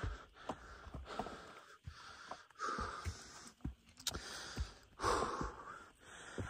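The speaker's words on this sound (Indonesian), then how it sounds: "Maaf ya saudara kalau sambil ngos-ngosan karena ini juga sambil nanjak saudara ya." Heavy, rapid panting and wheezy breaths close to the mic, rhythmic and labored, with faint footsteps and outdoor rustle underneath.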